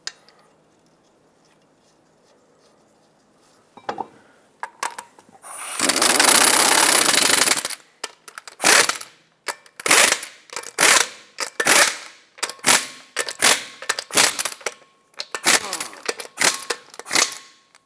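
Lug nuts on a 2014-2021 Mazda 6 front wheel are torqued to 80 foot-pounds in a cross pattern, with a rapid burst of mechanical whirring followed by a long run of sharp ratcheting clicks and snaps.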